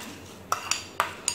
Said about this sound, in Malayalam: ഇത് നന്നായിട്ടൊന്ന് മിക്സ് ചെയ്യാം.